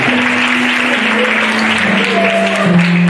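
A crowd at a church youth holiday gathering in Abidjan applauds and cheers steadily, a loud sustained wash of clapping with a few vocal whoops and a voice running beneath it.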